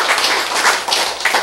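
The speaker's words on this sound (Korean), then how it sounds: "박수. 네, 박수." A church-free lecture audience bursts into loud, dense clapping close by, rising and falling in a few swells across a short burst of applause, with no voices over it.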